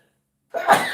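A single sudden sneeze bursts out after silence, loud and close, with a sharp onset and a trailing exhale.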